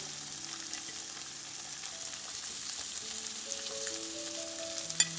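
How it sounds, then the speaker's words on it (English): Spicy catfish nuggets pan-fry in hot oil with a soft, steady sizzle, fairly quiet and close, accompanied by faint sustained tones and one sharp tick near the end. "Then we only need to cook the fish for about 5 minutes on each side"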